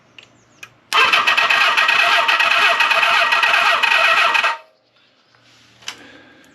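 A Kawasaki GPz550D1 motorcycle engine cranks and catches, giving a loud, steady mechanical roar for about three and a half seconds before it cuts out, with a faint click or two on either side.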